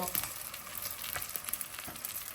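Mustard seeds sizzling and crackling in hot oil for shark fish curry, a close steady fry with small pops and light stirring, fairly quiet.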